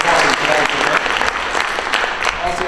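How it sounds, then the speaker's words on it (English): A public forum audience applauds its panelists, a dense, steady clapping that fills the room close and loud throughout, with a faint voice underneath. "we want to give our panelists right here a round of applause just for coming out."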